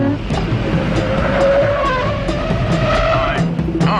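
A car speeds along with tires squealing and skidding, its engine loud and steady, set in a 1972 mystery drama.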